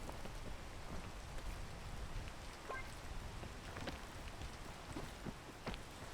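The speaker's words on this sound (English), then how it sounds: "Especially now it's raining." Rain falling in the climbing video game PEAK, a steady soft patter of drops with scattered sharper taps, continuous and fairly quiet, no voices.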